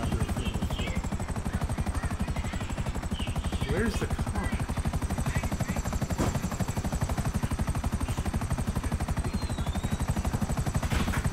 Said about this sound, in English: That looks like there's another helicopter.